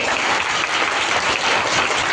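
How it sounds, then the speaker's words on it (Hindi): Loud, dense applause from a student audience after a stage play, a steady wash of many hands clapping throughout with no pauses. "नाटक अच्छा लगा तो जोरदार तालियां बजाइए"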